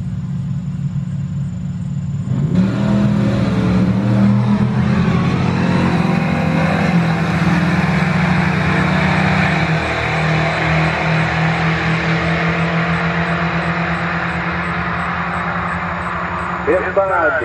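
Chevy drag cars, a Cabell and a Malibu, run a bracket race down the quarter mile. Their engines roar loud and steady for the whole run, with voices faintly under the noise.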